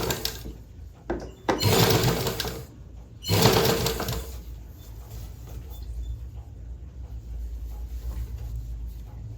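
A sewing machine stitches a blouse sleeve in two loud whirring runs of about two seconds each, separated by a short pause, followed by quieter handling sounds.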